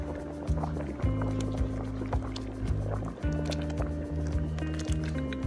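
Whisked eggs poured into warm dog feed make a continuous wet, gloopy liquid pour, with a rhythmic low pulsing as the mixture glugs out, close and fairly loud, no talking.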